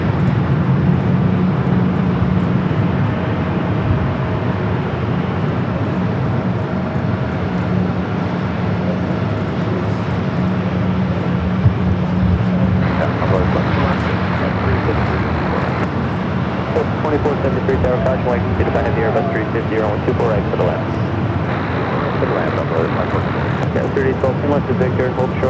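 An ITA Airways jet rolls down runway 24L for takeoff at LAX in Los Angeles. A low, steady engine roar carries in the background throughout, while someone talks over it for most of the time.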